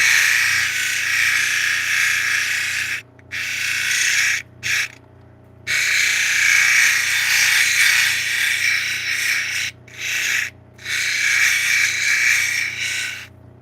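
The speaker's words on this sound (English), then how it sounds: "We'll start polishing the girdle here." The girdle of a flint and larimar cabochon with natrolite being polished: a loud, steady abrasive whir with a faint ratcheting grain, broken by several short silent pauses before it resumes.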